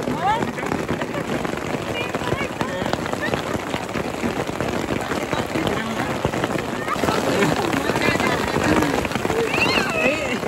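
A sudden hail and rain shower at an outdoor pond outing patters densely and continuously on surfaces nearby, growing slightly heavier toward the end, while people talk over it.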